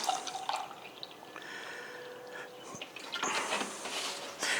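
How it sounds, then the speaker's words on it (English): Milk poured into a jar holding kefir grains makes faint, quiet trickling and splashing, with soft drips and a louder gurgling burst near the end. "So literally just pour the milk in."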